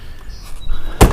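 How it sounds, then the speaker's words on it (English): A car door is pulled shut with a single loud, close thump after a few seconds of quiet shuffling, on a cold, windy day in Pennsylvania before a fishing trip to the lake. "Let me close my door here."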